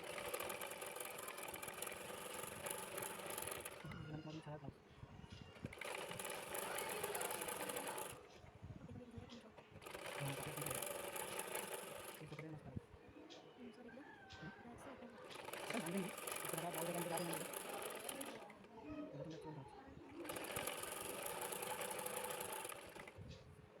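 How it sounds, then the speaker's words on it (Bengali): Sewing machine stitching a folded petticoat hem, running in long whirring bursts of several seconds separated by pauses, close and fairly loud, with a voice talking over and between the runs. "আর নিচের সেলাইটা ফোল্ডিং করে দিয়ে দিলেন"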